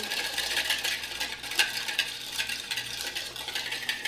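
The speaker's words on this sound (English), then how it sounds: "We'll whisk that up, get a nice little emulsion there going." A whisk beating oil and other flavor ingredients into a salad dressing emulsion, with a steady run of quick, light scraping and clicking strokes against a bowl, close and fairly soft, no talking.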